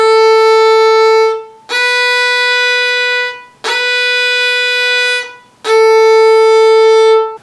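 A solo violin sustains bowed notes alternating between open A and first-finger B in four long, clean bow strokes, with brief gaps between them, close and bright.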